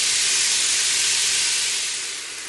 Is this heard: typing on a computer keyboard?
no